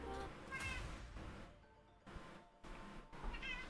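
Freshly woken house cats meow repeatedly at close range, a few bright calls spread across the stretch with quieter gaps and some background noise between them.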